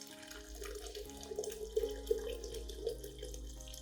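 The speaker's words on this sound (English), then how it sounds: "Then add 1 liter of boiling water." Boiling water pours steadily into a glass jar holding cinnamon powder, with a continuous splashing, bubbling flow, moderately close and fairly quiet, with no voices.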